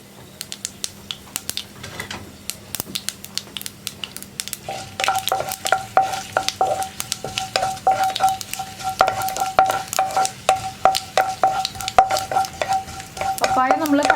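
Dried red chillies and mustard seeds with urad dal sizzle in hot oil in a pan while papaya thoran is cooked, giving a crackle of sharp pops and clicks with stirring scrapes that grows busier in the second half.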